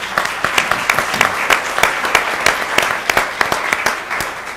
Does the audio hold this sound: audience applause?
yes